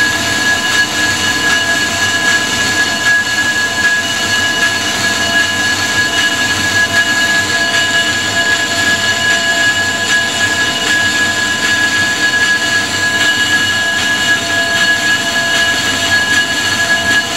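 A G0776 lathe turns a Ford 460 flywheel slowly at about 70 RPM, making a loud, steady machine drone with a constant high whine from the cutting, unbroken for the whole stretch.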